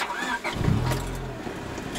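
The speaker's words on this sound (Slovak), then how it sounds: "To je typický Honda Starter." A Honda CRX del Sol's starter motor cranks the engine briefly as it turns over and begins to catch, heard close in a short low whirring burst without speech.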